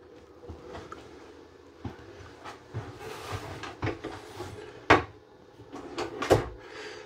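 Small drawers in a 2024 XLR Nitro 39G15 toy hauler fifth wheel slide and knock shut several times, with sharp wooden clunks and scraping runners, close by in a quiet room.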